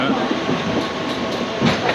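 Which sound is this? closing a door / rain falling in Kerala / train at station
train at station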